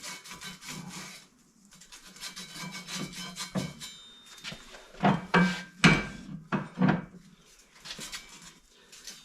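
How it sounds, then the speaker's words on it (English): Rust scraped off a Ford F-250 front axle at the U-joint cups, rough rasping and scraping strokes in uneven bursts with occasional metallic knocks, close and without talk. "Just getting a little bit of rust out."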